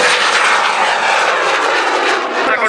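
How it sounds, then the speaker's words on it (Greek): An Alpha Jet flies past at the Athens Flying Week air show, a loud, steady jet roar filling the whole stretch with a slight wavering as the aircraft passes close by. "Κυρίες και κύριοι, μπροστά μας το Αλφα Τζέ."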